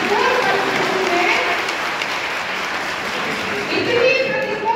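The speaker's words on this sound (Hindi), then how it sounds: "सबसे पहले आप अपने लिए एक ताली बजा दीजिए" An audience at a district-level school science exhibition claps in a steady, dense burst of applause that stays loud throughout, with a faint voice mixed in underneath.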